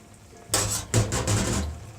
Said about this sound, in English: Now is the time to add the egg.